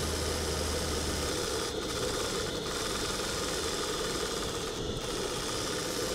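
A Monahan Heron reversible model steam engine meant for a boat runs with a rapid, even clatter, close up and steady, with brief dips in the rhythm and no voices.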